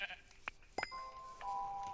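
Sheep in the Minecraft video game give a couple of short, bright bleats amid other chiming game sounds, with a steady tone running underneath.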